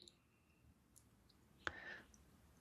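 A single crisp mouse click lands in a quiet room, followed by a brief soft electronic tone, with low background hiss throughout.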